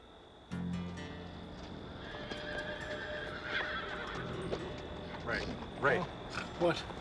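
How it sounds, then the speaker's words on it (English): Wild horses whinny repeatedly, several shrill neighs rising over a steady clatter of hooves, fairly close and loud. "Those are wild horses."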